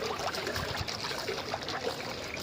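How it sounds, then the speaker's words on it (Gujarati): Irrigation water runs steadily through a farm field among vine crops, a continuous close trickling and gushing flow with no talk over it. "અહીંયા આપણું પાણી પણ ચાલુ છે, આમ જાય છે પાણી"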